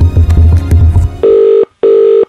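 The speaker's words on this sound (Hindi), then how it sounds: "भाई फोन लगाना।" A telephone rings out on a radio call, two long electronic ring bursts with a short gap between them, loud and clear, following some brief dialing tones.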